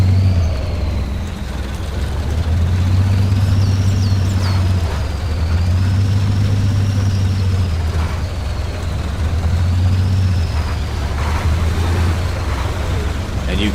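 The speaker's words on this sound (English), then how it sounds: "you can hear the engine revving behind me" A road train truck's engine in Spintires Mudrunner, fording a river, drones low and loud, swelling and easing in three long revving surges with water sloshing and a faint whine above.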